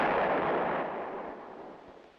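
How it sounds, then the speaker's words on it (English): A towed 8-inch howitzer fires a single loud, close boom that decays into a long, broad rumbling tail. "One battery of towed 8-inch howitzers is included in the Infantry Division artillery."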